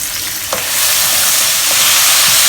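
Mixed vegetables stir-fry loudly in a hot wok with vegetarian oyster sauce, a dense close sizzle that swells after a moment, with a couple of faint spatula scrapes.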